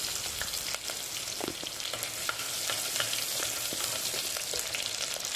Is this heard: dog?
no